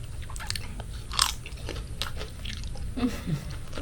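Crunchy fuchka (panipuri) filled with spiced potato is bitten and chewed close up, with crisp cracks followed by softer chewing and a brief faint murmur.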